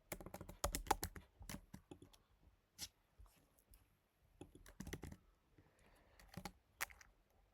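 An email address is typed on a computer keyboard, a quiet, close series of crisp key clicks in quick irregular bursts separated by brief pauses.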